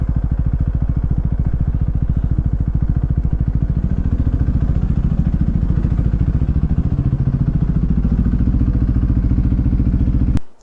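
A Husqvarna Svartpilen motorcycle engine thrums steadily while riding, a loud, close, even rumble with a fast pulsing beat that holds throughout before cutting off abruptly at the end.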